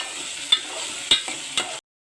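Fried onion, tomato and wild mushrooms get stirred in a sizzling pan, a steady frying hiss broken by three sharp scrapes of the spoon about half a second apart, then abrupt silence.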